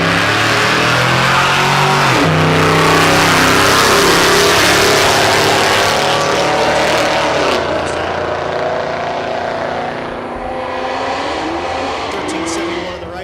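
Plymouth drag racing car at Texas Motorplex, a loud sustained engine roar with shifting harmonic tones as it accelerates, easing off toward the end, while an announcer talks over it.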